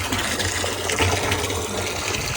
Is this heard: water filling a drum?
yes